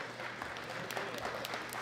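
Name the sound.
audience applause at powerlifting medal ceremony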